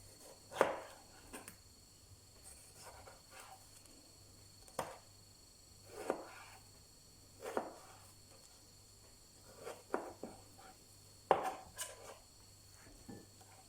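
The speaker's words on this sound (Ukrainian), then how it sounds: "Помідор нарізаю більшими кубиками." Sparse knife strokes cutting a tomato into cubes on a cutting board, about a dozen soft chops spaced irregularly with quiet gaps between, close and fairly faint.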